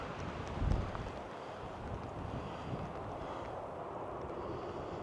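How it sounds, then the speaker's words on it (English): Steady wind blowing outdoors, a continuous low rushing roar with mic buffeting and a brief gust swell near the start. "I love the wind."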